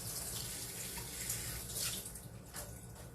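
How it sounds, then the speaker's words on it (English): A kitchen tap runs steadily into a sink as a pepper is rinsed clean of loose seeds. The water makes a continuous hiss and splash close by for a few seconds, with no talking. "Let me rinse this one off again, get the extra little seeds off."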